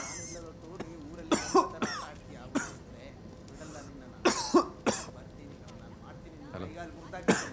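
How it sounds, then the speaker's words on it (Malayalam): Several short, sharp coughs from a dust allergy, in separate bursts, fairly close, with quiet stretches between them. "ഈടി പൊടിന്റെ അലർജി കാരണം ചുമ വിട്ട് മാറുന്നില്ല"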